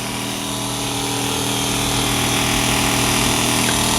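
A Dremel rotary tool grinds into foam board, a loud continuous high whine with a steady motor hum throughout and no voices.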